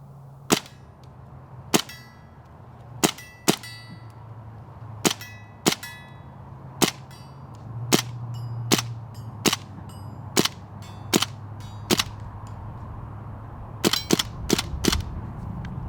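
A CO2-powered 12-gram M1 carbine replica fires about eighteen sharp, close cracks at uneven intervals, some spaced apart and some in quick pairs near the end, over a low steady hum.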